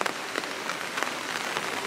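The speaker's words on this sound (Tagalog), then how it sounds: "Biglang umulan, guys. Umiinit, pero umuulan." Sudden rain pattering steadily on surfaces nearby, a dense even hiss of drops with occasional louder splashes, no voices.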